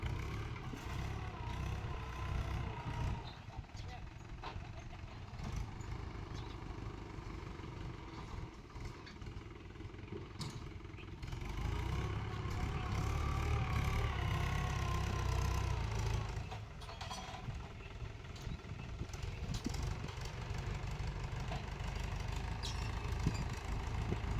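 A tractor engine runs on a farm field with a continuous low, throaty rumble and mild rattling. It is fairly near and steady, with slight surges in loudness partway through and no talking.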